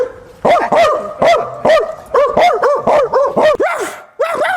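A person imitates a dog, letting out a quick series of loud, close yapping barks and whimpering yips in an uneven rhythm, alone with no other sounds around.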